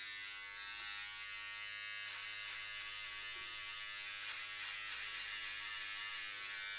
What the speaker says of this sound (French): je vais me raser la tête, tout simplement.